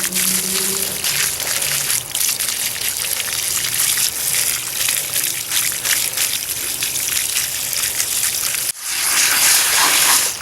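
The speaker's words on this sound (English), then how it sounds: "Alright, time for the water hose." A hose sprays water in a steady, loud gush, washing harvested turmeric, with a brief cut and a sudden louder burst near the end.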